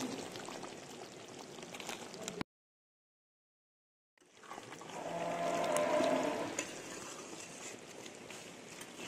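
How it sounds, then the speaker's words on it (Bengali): Water is poured into chicken biryani meat cooking in a pan, giving a soft sizzling and bubbling wash, briefly broken by silence before it swells again and fades. "এর মধ্যে দিয়ে দেবো অল্প একটু জল, যাতে মাংসটা খুব ভালো মতো সেদ্ধ হয়ে যায়।"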